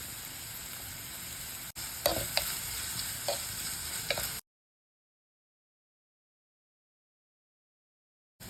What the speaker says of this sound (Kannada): ಆಮೇಲೆ ಇದಕ್ಕೆ ಕಟ್ ಮಾಡ್ಕೊಂಡಿರೋ ಈರುಳ್ಳಿ ಚೆನ್ನಾಗಿ ಕಾಯಬೇಕು, ಕೆಂಪಕ್ಕಾಗಬೇಕು.